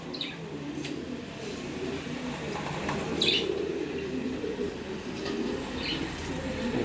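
A male pigeon coos in soft, low, continuous murmurs. Faint chirps and light background noise sit behind it, and nobody speaks.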